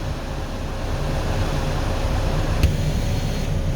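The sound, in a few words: Ford SportKa heater fan blowing inside car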